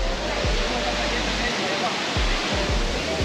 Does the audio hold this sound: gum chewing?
no